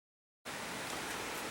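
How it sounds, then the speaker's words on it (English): Rain pattering on a roof, starting abruptly after a short silence and continuing as a steady, dense hiss of drops. "It's raining outside, and so you can hear the pitter-patter of raindrops on the roof."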